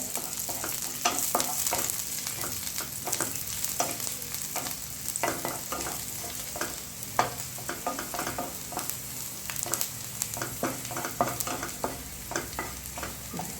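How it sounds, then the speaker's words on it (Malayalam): Garlic sautéing in oil for a chicken lollipop sauce, a bright steady sizzle punctuated by frequent clinking spatula stirs against the pan, close up and without any talk. "അതിനകത്തോട്ട് നമുക്ക് വെളുത്തുള്ളി ഇട്ട് കൊടുക്കാം. വെളുത്തുള്ളി ജസ്റ്റ് ഒന്ന് സോട്ട് ആവട്ടെ."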